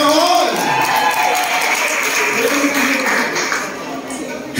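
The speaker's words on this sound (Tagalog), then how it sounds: "malakas na palakpak po para kay Yahweh Shaddai" Loud congregational applause and cheering at a church service in praise of God, a dense wash of clapping and crowd noise with voices mixed in, fading slightly toward the end.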